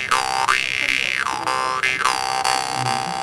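A metal mouth harp twangs at a fair in the desert, its resonance sweeping up and down in wah-like glides over a steady buzzing drone, close and loud without talk.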